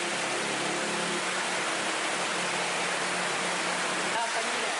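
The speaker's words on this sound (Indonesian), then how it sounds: "Hujan deras disertai angin kencang dan petir melanda seluruh wilayah di Kabupaten Maros" Heavy rain driven by strong wind during a thunderstorm in Maros Regency, South Sulawesi, a dense unbroken roar of rainfall that stays loud and steady throughout, with no voices heard.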